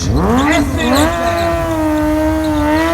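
A Kawasaki ZX636 motorcycle rated at 150 horsepower revs hard, its engine note climbing steeply and then holding a loud, steady high-pitched whine, close and continuous for about three seconds.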